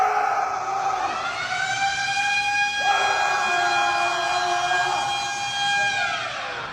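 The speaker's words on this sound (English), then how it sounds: "Which was a siren that would go off anytime someone made too much noise during a workout" A loud electronic gym lunk alarm siren wails continuously, its tone stepping between pitches, steady and close with no voices.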